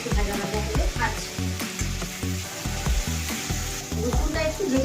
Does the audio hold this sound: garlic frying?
yes